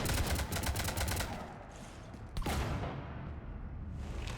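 Gunfire aboard a ship in the video game Mass Effect 3, a rapid automatic burst followed by a single sharp shot and a faint mechanical hum, fairly quiet.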